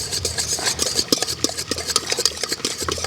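Cocoa powder being stirred into hot sugar syrup for a homemade chocolate, with quick, close scraping and clinking of a spoon against the pan in an irregular, busy rhythm.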